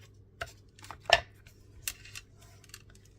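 Scissors snip paper during an embossed envelope craft: a few quiet, separate cuts and papery rustles in a still room, one snip sharper than the rest, with no talking.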